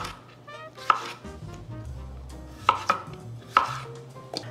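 Small potatoes being quartered with a knife on a cutting board, with three or four distinct sharp chops spaced unevenly between quieter handling noises, close and alone.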